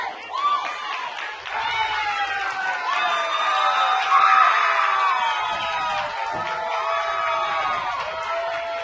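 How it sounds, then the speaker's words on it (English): Puerto Rico fans in the stands at a Little League Softball World Series game cheering and shouting loudly, a sustained roar of voices and whistles with excited yells rising and falling throughout. "Puerto Rico fans getting nice and loud in this inning, trying to cheer Carla Rodriguez on"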